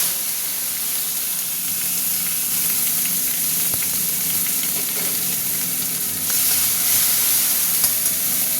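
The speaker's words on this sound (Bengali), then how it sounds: "এবার দিয়ে দিচ্ছি টমেটো" Tomatoes sizzle steadily in hot oil with five-spice and a dried chilli in a pan for an okra curry, a loud continuous frying hiss that swells after they go in, with light stirring and no talk.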